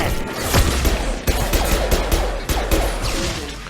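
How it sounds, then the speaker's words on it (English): A flashbang grenade goes off in the video game Mass Effect 2, a burst of sharp cracks and crashes layered with rapid gunfire-like pops across a few seconds of dense combat noise. "That flashbang grenade did its job."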